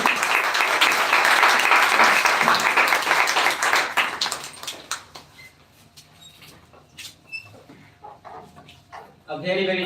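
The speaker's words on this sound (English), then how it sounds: "please welcome with a huge round of clap, Mr. Izhar Ansari" Crowd applause at a speech event's grand finale, loud and dense for about four seconds as the next speaker is welcomed, then thinning into scattered claps and murmurs before a brief burst returns at the end.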